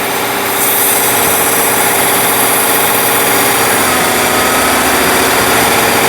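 A 2014 GM truck 5.3 V8 that runs rough at times holds a steady 1850 RPM, a loud, continuous engine drone heard up close with a constant vibrating hum and no pauses.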